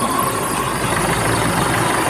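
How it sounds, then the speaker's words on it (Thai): An Isuzu D-Max 2.5 Gold Series four-door pickup engine idles steadily at close range, running normally, a continuous low rumble with a faint vibrating hum and no voices. "เครื่องยนต์ปกติทุกอย่างนะครับ"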